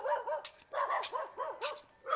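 A dog on a mountain trail in Montalban gives a quick run of repeated sharp barks and yips, fairly faint and somewhat distant, in rhythmic bursts with short gaps.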